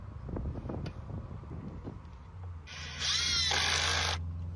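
Power drill driving screws while building a wooden horse shelter outdoors, preceded by a few knocks and handling sounds, then a single close, loud whirring drive of about a second and a half, with light wind behind.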